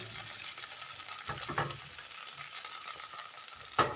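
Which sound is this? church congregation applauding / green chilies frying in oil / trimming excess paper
green chilies frying in oil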